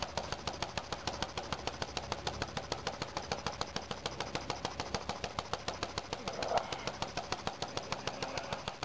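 Paradox gas engine burning a mix of hydrogen, carbon monoxide and methane, idling with an even, rapid chuffing beat that holds steady and close for the whole stretch, with no voices.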